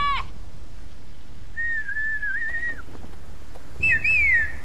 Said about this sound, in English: Oh, they do love their whistling, don't they?